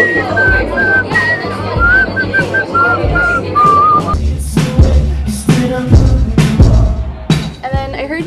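A person whistles a short melodic phrase of sustained notes at an album release show, backed by room chatter and clatter, and then the whistling gives way to busier crowd noise and thumps.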